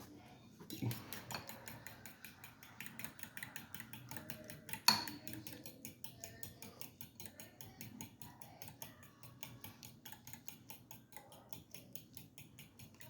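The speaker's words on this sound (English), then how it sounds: "I'm gonna keep beating up this egg over here right quick" A fork beats an egg in a bowl with quick, steady ticking clinks that run continuously at close range, with one sharper knock partway through and no talking.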